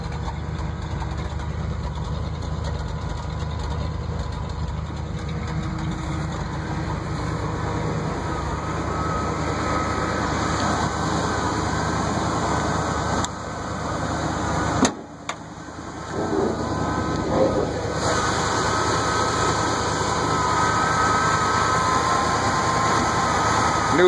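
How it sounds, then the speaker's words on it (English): A 1975 Ford pickup engine idling with a blown-out muffler, a loud, steady low rumble with a brief dip near the middle before the drone resumes, no talk. "Bit of a blown out muffler."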